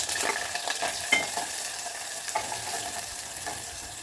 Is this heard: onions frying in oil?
yes